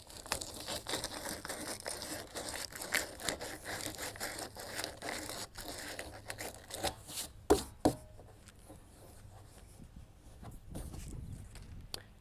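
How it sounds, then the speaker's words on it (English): Sandpaper scraping plastic burrs off the edge of a cut hole in a plastic rain barrel, a run of quick rough rasping strokes, close and fairly soft, fading to sparser scratches toward the end. "you'll use your sandpaper to get all the plastic burrs off of this"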